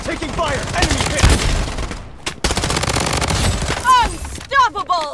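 Rapid gunfire in the video game Blood Strike, dense bursts with brief breaks, loud and close, with game voice lines and chirping effects sounding near the end.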